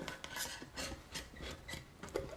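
Bondo body filler is scraped and mixed with a spreader, producing close, rhythmic rasping strokes, about six quick passes in a couple of seconds, with no voice over them.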